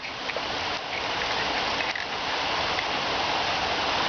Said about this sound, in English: it looks like the pouring rain is starting to come in now